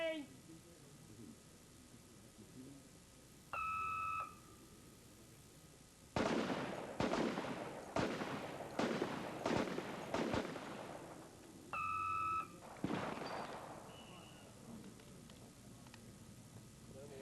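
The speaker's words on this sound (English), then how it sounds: "They've got 8 seconds to fire 6 rounds." Six sharp gunshots from shooters at the 25-yard line in a timed pistol competition, 1983, cracking out in quick succession after a brief electronic start tone, with another tone afterward and faint background noise.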